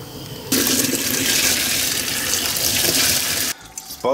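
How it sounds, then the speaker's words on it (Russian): Freshly boiled water from a pot of meat and parts for aspic is poured into a sink, a loud, close rush of water lasting about three seconds before stopping abruptly. "После того, как это чуть-чуть покипело, сливаем все это в раковину."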